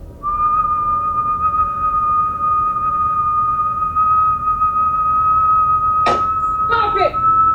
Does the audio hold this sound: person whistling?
yes